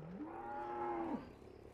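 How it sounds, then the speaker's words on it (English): A single cow moos in the Farming Simulator 15 video game, one close, drawn-out low call that rises and then holds steady before dropping off at the end. "Look at that, he mooed at me."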